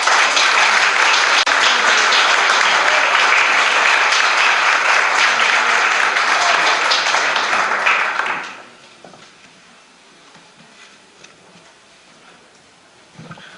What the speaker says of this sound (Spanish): Un aplauso para Jorge Pompei.